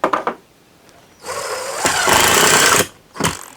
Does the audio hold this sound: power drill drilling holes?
yes